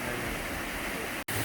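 A double cascading waterfall about 50 feet tall near the Great Smoky Mountains in Cherokee, North Carolina, pours as a steady, broadband rushing roar, continuous and close, with a momentary dropout near the end.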